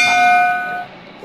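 Short electronic bell chime used as a subscribe-button notification, one bright ringing tone that decays over about a second.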